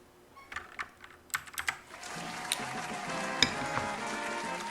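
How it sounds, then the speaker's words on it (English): Clicks from a mechanical keyboard: a few scattered taps give way to a steady, rapid stream of close, crisp keystrokes, with no voices. "for those of you who are hearing clicking on the keyboard, that's me doing my soundboard stuff"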